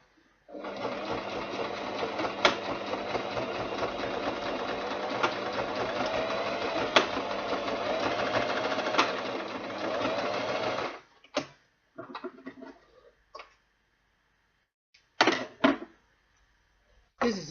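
An electric sewing machine runs steadily for about ten seconds, stitching the edge of an ankara fabric and leather bag with a fast mechanical whir, then stops and gives way to scattered handling clicks and brief short bursts.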